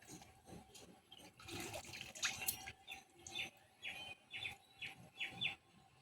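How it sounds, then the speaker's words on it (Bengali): Fresh water lily stems, cut long, being rinsed by hand in a basin of water in a village kitchen: repeated soft splashes and drips in short bursts, close and quiet, with no talking. "জলের গামলায় জলের মধ্যে দিয়ে ভালো করে ধুয়ে নেব।"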